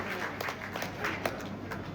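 Members of the Gahoi Samaj Mahasabha gathering applaud together, a fairly quiet, continuous patter of many hands clapping in a hall for a couple of seconds.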